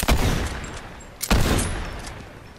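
Kinetic repeater rifle firing in Fortnite: two loud, close bursts of shots about a second apart, each decaying into a ringing tail, with no talk.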